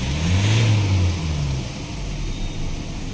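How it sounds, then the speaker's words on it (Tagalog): Ford Raptor engine with a low-power fault and check engine light, blipped once in a quick rising rev that holds briefly then falls back toward idle, close and fairly loud. "So i-rev natin kung tataas yung RPM"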